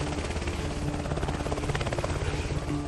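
A Robinson helicopter flies nearby, its rotor producing a fast, steady chopping pulse over an engine drone that holds at moderate loudness throughout.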